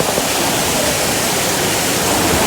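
Small waterfall splashing at a zoo, a steady, dense rush of falling water close by that stays constant and loud throughout, with no other sounds breaking through.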